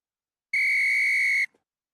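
A referee's whistle at a rugby match blows one loud, sustained shrill blast lasting about a second, sharp and close against otherwise near silence.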